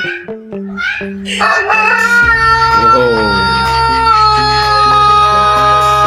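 A rooster crows in one long drawn-out call that rises and then trails off, loud and close, over a steady background of music.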